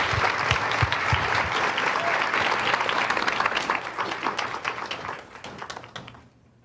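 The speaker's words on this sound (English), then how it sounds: "let's give them a round of applause" Audience applause fills the hall at the Overheated Live 2024 event, a thick, sustained clapping that stays strong for several seconds, then thins and fades out near the end.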